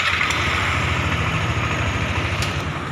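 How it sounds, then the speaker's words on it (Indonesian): A Yamaha NMAX scooter engine runs steadily after a starter wiring repair, a continuous close idle with a low pulsing throb and broad mechanical hiss, no voices. "Sekarang motor sudah bisa hidup."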